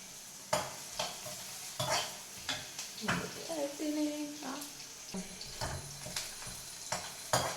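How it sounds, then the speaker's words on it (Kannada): Onions fry in ghee for chicken pepper ghee roast, with a sizzle under regular scraping stirs of a spoon in the pan, some clanks against the metal, and a faint tonal whine partway through. "ಆಮೇಲೆ ಈರುಳ್ಳಿ ಸ್ವಲ್ಪ ಬ್ರೌನಿಶ್ ಆಗೋವರೆಗೂ ಕಾಯಿರಿ"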